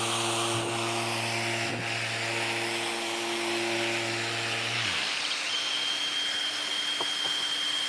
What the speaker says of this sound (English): it doesn't take much with this Surf Prep sander